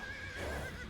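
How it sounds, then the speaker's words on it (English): Horses neighing in the video game Chronicles: Alexander, a single wavering whinny held for about a second over a dense rumbling game background. "We've got some horses waiting here for this army coming in."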